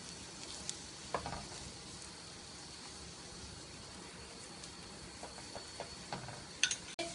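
A potato paratha fries in ghee on a pan, giving a faint steady sizzle with scattered small pops and light taps, quiet and without any voices.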